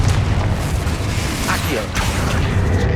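A Confringo fire spell blast in Hogwarts Legacy gives a dense, rumbling explosive boom with crackling noise, sustained and loud for a few seconds while a voice speaks briefly.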